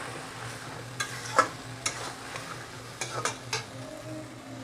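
Prawns sauté with ground cumin and a splash of water in a pan for a Bengali taro and prawn curry, giving a soft, steady sizzle broken by light scrapes and taps of a stirring spatula.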